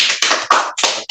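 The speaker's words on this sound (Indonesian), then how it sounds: "Tepuk tangan untuk kedua bintang tamu ini." A brief burst of clapping from a small group in a podcast studio, welcoming two guests. It comes as four or five sharp, loud claps in quick succession, close to the microphone.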